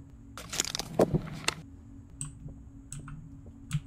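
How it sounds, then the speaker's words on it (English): Healing sound effect in the horror video game The Glass Staircase: a brief burst of crackling, clicking sparkle in the first second and a half, followed by a few faint, high, chiming tones spaced apart. "That's the sound of healing."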